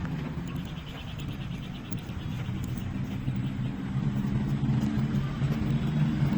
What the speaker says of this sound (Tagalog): Ingay ng mga sakyan